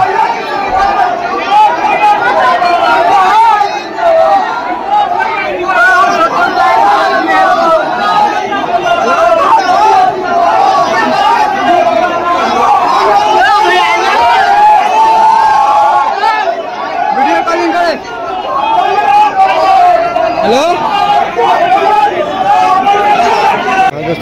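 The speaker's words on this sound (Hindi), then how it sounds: "इतने सारे भीड़ है" A large crowd at a political rally in Madhubani, a dense, steady babble of many voices with occasional shouts, close and loud throughout without letup.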